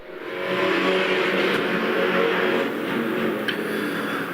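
A Pro Stock race car, number 194, pulls away on its qualifying run, its engine swelling into a loud, sustained roar as it accelerates, heard without any talk.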